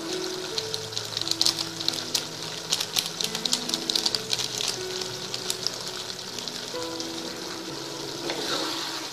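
A reduced turnip curry gravy simmers in a pan with soft, scattered bubbling pops and a faint crackling sizzle that continues at low volume throughout.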